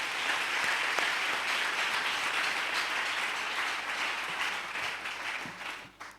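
A church congregation applauds steadily, a dense wash of many hands clapping at even loudness that tapers off at the very end.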